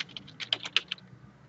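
Quick, uneven keystrokes on a computer keyboard, a short burst of clicks that is loud and close, then trails off, with no voices.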